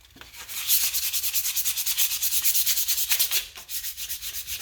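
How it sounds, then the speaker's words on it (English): 800 grit sandpaper is rubbed over a brake caliper still mounted on a car, making fast rhythmic back-and-forth rasping strokes, steady and close, with no talk. "So go ahead, hit everything once with the sandpaper."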